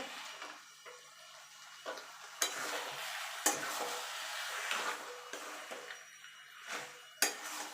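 A dish of spinach and fish heads with a little ghee is stirred in a pan, producing soft sizzling, intermittent clinks and scrapes of the spatula at a quiet level, with no speech.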